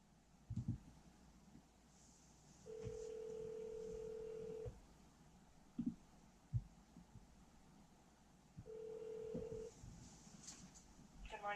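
A business phone call being placed: short dialing tones, then long steady ringback tones with pauses between, fairly faint and heard alone before anyone answers.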